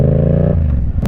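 Loud exhaust of a Yamaha MT-07 motorcycle, a steady throaty engine drone close to the rider that drops in pitch as the revs fall, ending with a brief mechanical clatter.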